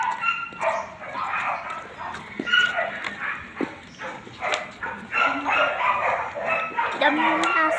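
Many dogs bark and yip together outdoors among acacia trees, a busy overlapping chorus with some whimpering, carrying on steadily with people talking over it.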